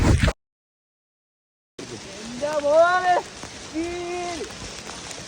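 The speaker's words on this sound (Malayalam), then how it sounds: "അല്പം മഴ" After a brief cut to silence, a soft steady patter of light rain returns while people talk over it, on a hill trek at Koonichi Mala.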